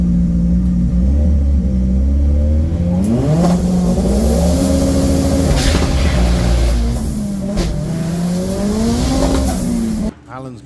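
A front-wheel-drive doorslammer drag race car screams down the track, its loud engine note climbing and dropping through gear changes before cutting off abruptly, with an announcer's commentary over the roar.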